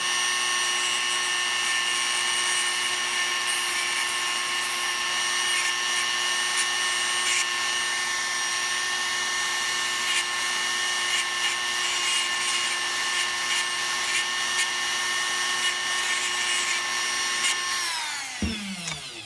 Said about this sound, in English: And then I'll take the sander and I'll give it a little shape to it.